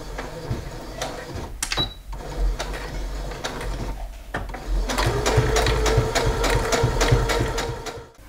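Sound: sewing machine stitching a baby skirt hem

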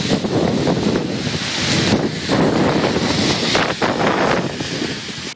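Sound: strong wind

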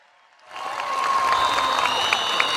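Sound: rally crowd applauding

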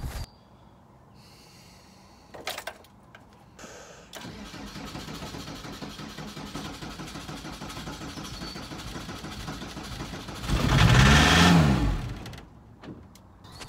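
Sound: VW T25 diesel engine starting and running

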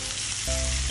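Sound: sautéing ingredients in a pan for spaghetti sauce

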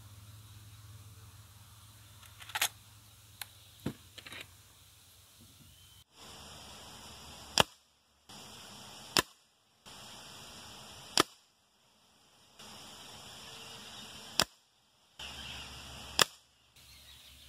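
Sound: air rifle pellet shots

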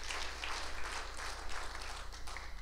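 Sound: church congregation applauding

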